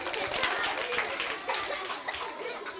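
Children in a kids' show circle clap and giggle together for a girl who ate half a carrot, a brief burst of close, lively applause mixed with chuckles and chatter.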